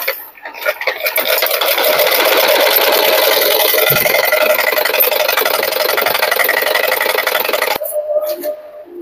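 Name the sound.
sewing machine stitching blouse fabric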